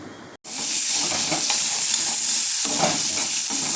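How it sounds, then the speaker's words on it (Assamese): Chopped onions hit hot oil already tempered with panch phoron and dried chillies, erupting into a loud, steady sizzle with stirring scrapes after a brief silent gap, no voices. "এতিয়া কাটি লোৱা পিঁয়াজখিনি মই দি দিম"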